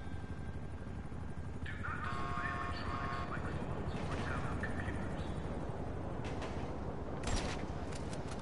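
A video game helicopter pulls away, its whining engine tones and rotor rumble lasting several seconds beneath game noise, with sharp bangs near the end and voices talking over it.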